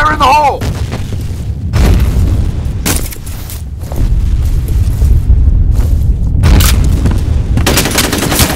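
Grenade explosions and gunfire in a chaotic shooter game, several heavy booms and bursts of shots separated by brief lulls, loud and close, with voices shouting amid the noise.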